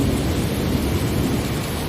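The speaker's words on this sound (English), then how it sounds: "as the rain continues its gentle rhythm, and the fire crackles warm and safe" Steady rain pours down as a dense, even hiss with a low rumble of thunder rolling underneath, loud and continuous with no voices.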